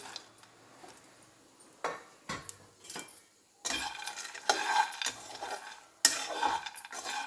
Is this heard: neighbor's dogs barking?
no